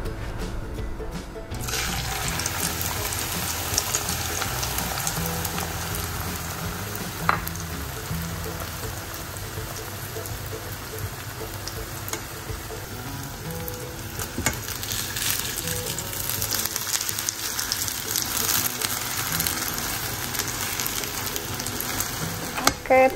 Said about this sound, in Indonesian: Oke, ini kita langsung goreng aja teman-teman.